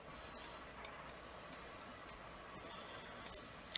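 Faint, crisp computer mouse clicks tick at a quiet desk while using Tabletop Simulator, single clicks spaced out and then a quick double click near the end.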